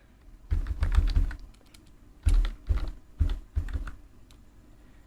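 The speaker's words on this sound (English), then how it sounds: "So what you are going to do is to type the system info" A computer keyboard being typed on, entering a command in a command prompt window: short bursts of clicky keystrokes in quick clusters with brief gaps, close and clear, no talking.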